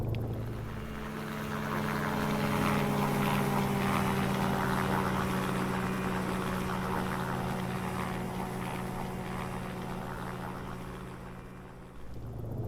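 A Cicaré helicopter cruises at about 40 knots in the X-Plane 11 flight simulator, with a continuous, droning engine and rotor hum that holds steady throughout and fades slightly near the end.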